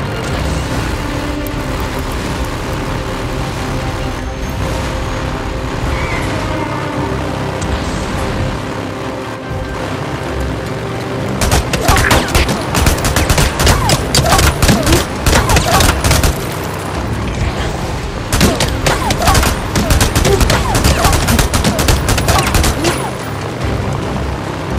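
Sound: gunfire in the video game Days Gone

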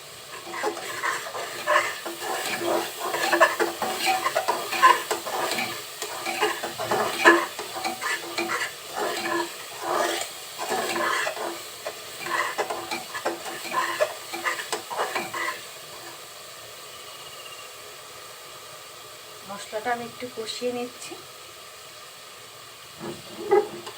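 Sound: spices frying in oil for beef curry

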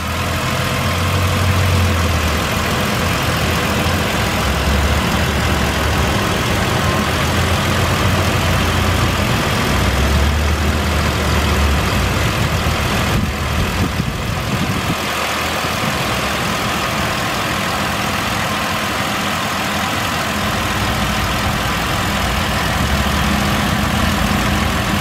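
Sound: 2008 Ford Explorer 4.0 liter engine idling

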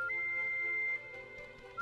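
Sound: whistle calling a collie pet, from video game Cube World

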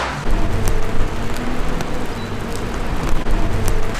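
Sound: rain

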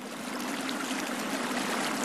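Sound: river flowing strongly with snowmelt in spring

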